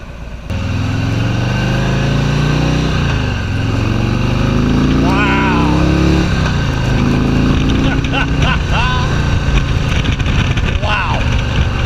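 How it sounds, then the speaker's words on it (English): A 2017 Harley-Davidson Street Glide with a 107 cubic inch Milwaukee Eight engine idles steadily and close up, a smooth low rumble running throughout while people talk over it. "It just has a nice sound to the motor, smoothness to it."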